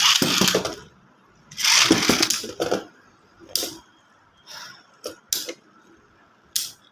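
Spinning battle tops launched into a stadium, heard as sharp clattering collisions and scraping spins, loud bursts followed by several quick close clicks and knocks.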